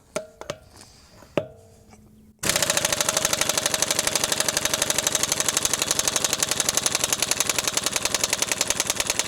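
Earthquake air impact wrench hammering on a lug nut, driven by a Fortress air compressor set to 90 PSI: after a few handling clicks, a loud rapid rattling burst runs steadily for several seconds.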